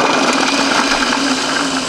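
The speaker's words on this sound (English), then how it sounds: "We've now got the lid on the Blixer. We're going to start it at low speed." A Robot Coupe Blixer 4V food processor runs steadily at low speed, a dense continuous whir with a low motor hum, loud and close with no talk over it.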